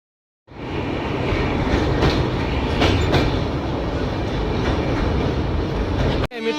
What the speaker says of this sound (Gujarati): ફાઇનલી અમારી ટ્રેન આવી ગઈ છે, જોઈ શકો છો તમે બધા.